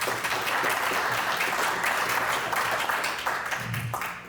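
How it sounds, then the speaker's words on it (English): An audience at a Chamber of Commerce meet-the-candidates event applauds the candidates, a short burst of moderately loud, steady clapping that tapers slightly at the end. "So I want to give a round of applause to every candidate"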